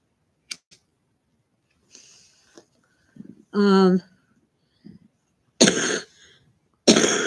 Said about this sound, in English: The coughing, my doctor says it's actually from acid reflux.